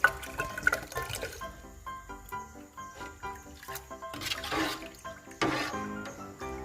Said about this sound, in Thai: ยายจะเอาน้ำไปใส่ในขวด กะทิด้วย ค่ะ ล้างขวดพร้อมใส่ไปเลยค่ะ